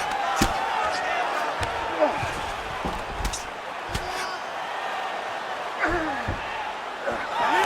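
Heavy ground-and-pound punches in a UFC 5 video game fight, Michael Johnson versus Alexander Hernandez, landing as sharp, scattered thuds over a steady arena crowd roar while a commentator talks.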